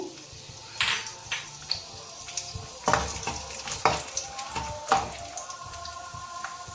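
Cashews frying in ghee for ravva laddu, a close bubbling sizzle broken by sharp stirring scrapes and pops that come every second or so.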